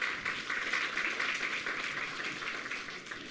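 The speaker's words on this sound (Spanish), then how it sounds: "Una vez más, por favor, vamos a dar fuertes aplausos." A church congregation at a Sunday service applauding a choir, dense steady clapping from many hands filling the room, moderately loud and sustained throughout.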